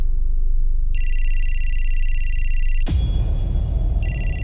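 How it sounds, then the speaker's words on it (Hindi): A phone ringtone chirps out in loud repeated bursts over a steady low hum, cut briefly by a sharp thump before the ringing resumes. "मेघा का फोन"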